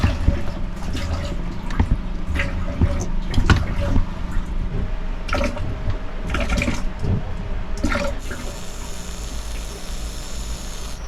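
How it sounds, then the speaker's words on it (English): A manual foot pump drains water from a boat's plumbing, with repeated clunking pump strokes and gurgling, trickling water in an uneven rhythm, close by, fading to a quieter hiss near the end. "I'm able to pump the foot pump, and it drains the water"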